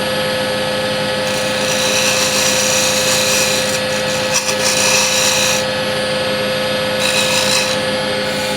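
Steady rasping scrape of a tool against a walnut burl box spinning on a wood lathe, a continuous close textured hiss with a constant motor hum beneath, swelling slightly in a few passes.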